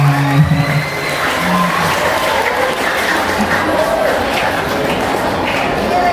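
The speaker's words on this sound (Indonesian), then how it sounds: "Tepuk tangan." Students at a school religious assembly clap their hands together in a loud, dense burst of applause with some cheering and voices mixed in, sustained throughout.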